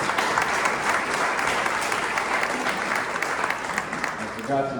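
An audience at a county sheriff candidates forum claps steadily, giving a full, dense burst of applause. A voice briefly rises under the clapping near the end.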